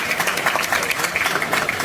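Audience at a political gathering in Pakistan applauding briefly, a dense patter of many hands clapping close and fairly loud.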